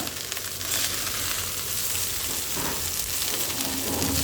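Spicy fried rice made from leftover rice, with potato and egg, is stirred and fried in a pan, giving a dense continuous sizzle and rustling scrape that stays loud and close throughout without speech.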